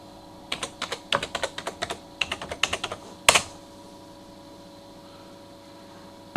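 Quick bursts of computer keyboard typing come through as crisp, close key clicks in short runs, with one louder key strike midway, followed by quiet.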